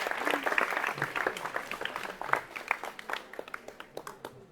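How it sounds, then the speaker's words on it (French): A conference audience at the Palais des Congrès applauds a woman: dense, close clapping that gradually thins into scattered, separate claps toward the end. "Allez, on l'applaudit aussi, cette dame, quand même."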